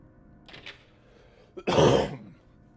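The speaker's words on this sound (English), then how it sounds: "I had to cough very badly there." A single harsh, loud cough bursts out after a brief throat sound, close to the listener, then fades into quiet.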